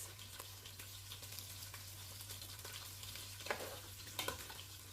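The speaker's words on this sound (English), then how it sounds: "I'll turn the other ones and let them fry on the both sides" Fish frying in a pan with some fish heads among the pieces for a carrot sauce, giving a steady low sizzle throughout with a few sharper crackles and pops near the end, and no talking.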